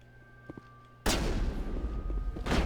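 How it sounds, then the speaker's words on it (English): A shotgun blast in the video game Mass Effect 1 cracks out loud and sudden after a quiet stretch, followed by a decaying boom and a second shot near the end. "Why am I trying to long range with a shotgun?"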